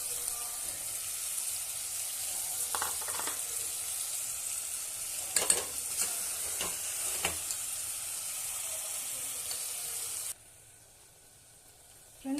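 Ground masala paste for a kada gravy fries in hot oil, a steady broadband sizzle running for about ten seconds with a few scraping stir strokes, then cutting to near silence with a short knock at the end.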